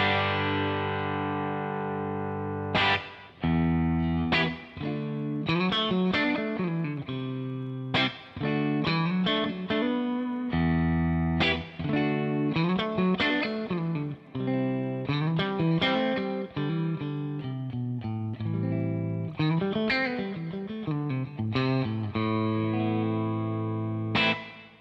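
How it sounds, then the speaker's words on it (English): A distorted electric guitar plays chords and riffs through the heavily driven spring reverb of a Two Rock Classic Reverb Signature amplifier, loud and continuous, with short gaps between phrases and a lingering splashy tail. "you can drive the front of the reverb just by turning up the send"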